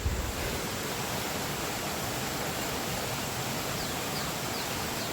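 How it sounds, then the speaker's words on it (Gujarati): Strongly flowing water near Datar in Junagadh, a dense, continuous roar of rushing water filling the scene at a steady level, with no voices heard. "પાછો પાણી એવું હાલ્યું જાય છે કે વાત પૂછું નથી"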